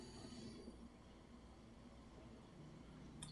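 A recorded train plays back as a faint, steady rumble with a broad hiss over about three seconds, with no voices.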